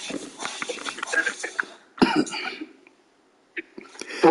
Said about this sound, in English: Boy, you've been coughing for too long.